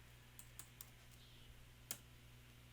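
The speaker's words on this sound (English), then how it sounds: "I will just type here Instagram." Soft, faint keystrokes on a computer keyboard come as a few spaced clicks and then one sharper tap, set against a quiet, steady electrical hum.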